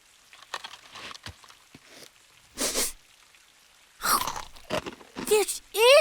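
Cartoon crunching as a cookie is bitten, a few short crisp bursts separated by quiet gaps, followed by bright rising and falling whistly cartoon effects near the end.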